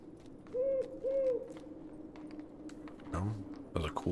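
In the video game Lord of the Rings Online, an owl gives two clear hoots in quick succession, near and moderately loud, followed by soft game sounds and thuds.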